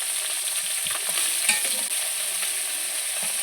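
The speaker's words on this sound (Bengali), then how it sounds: "এদিকে মাছ ভাজা চলছে মাছ কিন্তু ভাজা হয়ে গেছে" Fish frying in hot oil, a steady close sizzle with soft stirring crackles and no talk over it.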